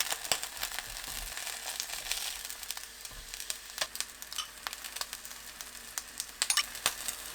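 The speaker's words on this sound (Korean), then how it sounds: "식용유 2큰술 두르고 약불로 파를 구워줍니다" Green onions fry in two tablespoons of cooking oil over low heat, giving a steady close sizzle dotted with sharp pops and crackles throughout, with no talking.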